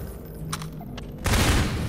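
Gunfire from the Half-Life 2 video game: faint scattered shots and clicks, then a sudden loud burst of rapid fire that continues to the end.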